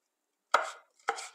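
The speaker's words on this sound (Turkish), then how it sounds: "bir adet kapya biberimizi, bir adet de yeşil köy biberimizi doğrayacağız" Two crisp knife chops on a cutting board as kapya red pepper and green village pepper are diced finely, close and clear with silence between, no talk.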